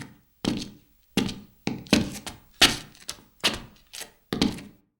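Seven evenly spaced hollow wooden thunks, each with a short roomy tail, processed to sound as if heard inside a medieval village house.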